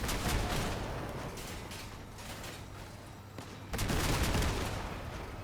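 The Dolores carbine in the vehicle combat game Crossout fires a heavy booming shot, then after a fading rumble a second loud blast lands a few seconds later, with no voices.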